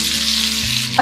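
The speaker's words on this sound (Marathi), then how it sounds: "हे असे लगेच बॅटरमधून काढायचे आणि 1-1 करून तेलात सोडायचे." Soya chunk pakoras in batter dropped into hot oil in a kadhai, giving a loud, dense, continuous sizzle up close for a brief moment, with no talking.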